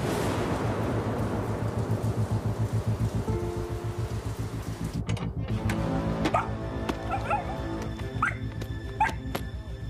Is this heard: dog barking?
yes